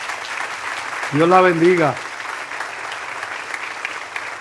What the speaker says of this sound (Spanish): Damos un aplauso al Señor por esta vida.